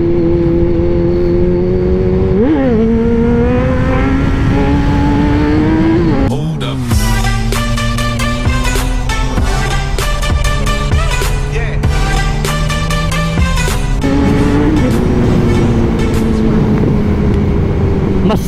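A Kawasaki Z1000 with twin exhaust roars loud and close during a wheelie, revving up and down with sharp throttle blips and a sustained high-pitched engine howl.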